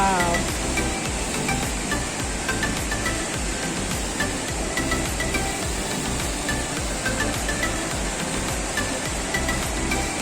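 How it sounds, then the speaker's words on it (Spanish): Rushing river water at a hydroelectric site on the Río Guaire in Caracas roars as a dense, steady, loud wash of noise, unbroken throughout and with no voices heard. "Este río es impresionante."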